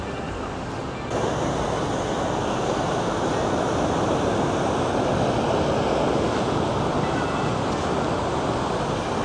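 Sea waves roll onto a clean sandy beach in Phan Thiet, a steady broadband wash of surf with wind, loud and continuous after a quieter first second, with no voices.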